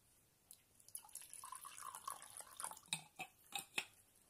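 Water poured into an empty glass, quiet and close, starting with a few drips and a thin trickle, then a brief run of splashy pours and clinks near the end, with no talking.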